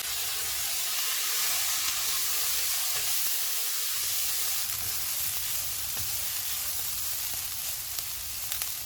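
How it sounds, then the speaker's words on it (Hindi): Spring roll filling sizzles and fries steadily in a pan with crushed black pepper, red chili flakes and soy sauce, a continuous loud hiss with no pauses. "इनको मिक्स करेंगे और 1 मिनट तक भूनेंगे।"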